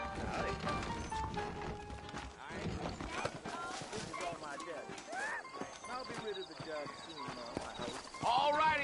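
Horse hooves clip-clopping in the Western video game Red Dead Redemption, a steady trotting rhythm mixed under character dialogue and game sounds.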